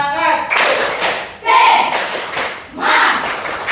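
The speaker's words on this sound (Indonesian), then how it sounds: "Beri tepuk semangat." A classroom of students does a rhythmic spirit clap, three bursts of clapping mixed with chanted voices, each group of claps loud and close.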